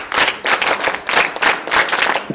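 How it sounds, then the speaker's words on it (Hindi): A small group clapping for a scout volunteer at the Mahakumbh 2025 gathering, delivered in several uneven bursts with short gaps between them, fairly close and loud, with no talk over it. "अरे वाह, ताली बजा"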